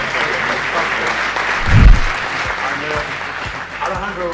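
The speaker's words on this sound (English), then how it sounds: "a big round of applause for Alejandro" Audience claps for a speaker at the Dublin Tech Summit, a moderate burst of applause mixed with a voice talking over it and a brief low thump near the middle.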